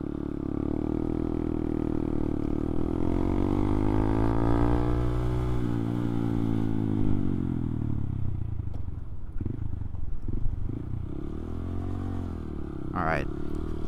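A Honda Grom motorcycle engine drones steadily and shifts pitch as the small bike skids on loose ground, with scraping and clatter toward the end and a short high squeal near the finish.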